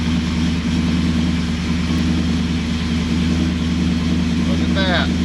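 Rebuilt Chevrolet C10 truck engine running at a steady idle just after a cold start, with a continuous low droning hum that holds level throughout.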